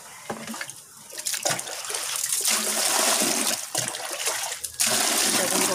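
Water running and splashing steadily at close range, swelling louder after a brief start, with faint talk underneath.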